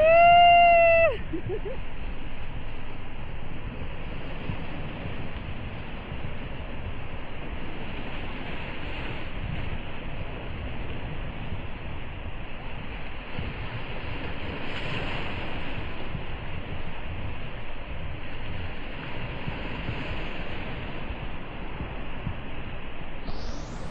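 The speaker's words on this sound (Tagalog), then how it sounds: "Medyo malakas yung alon" Strong sea waves wash continuously against a rocky coast during coasteering at Po Pin Chau, a loud, broad roaring surge mixed with heavy wind buffeting the microphone, with a brief voice near the start.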